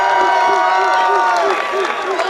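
A big festival-grounds crowd at a pumpkin festival cheers and applauds in a dense, continuous roar of clapping and voices, loud and sustained for the whole stretch.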